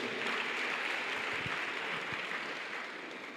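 Audience applause at the Elevate Summit 2024 conference, a soft even wash of many hands clapping that fades slightly toward the end.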